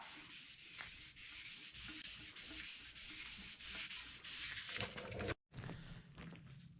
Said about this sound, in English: let's grab some water and some fresh sandpaper and sand it again